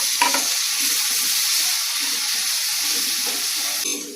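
Tomatoes and onions frying in a pan for a vindi (okra) sabji, a steady close sizzle with faint stirring, no talk over it.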